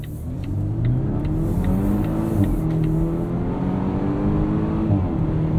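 A 2019 Volvo S60 T6 R-Design engine revs steadily and loudly, with brief crackling exhaust pops between gear changes as it accelerates.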